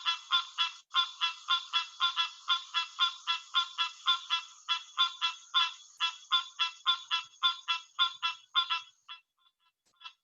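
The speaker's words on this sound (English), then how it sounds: "So here is the call of the green tree frog," Green tree frog (Hyla cinerea) calling in a steady rhythmic series of nasal, duck-like quanking notes, about two per second, loud and close, with no voices and a few fainter notes trailing off at the end.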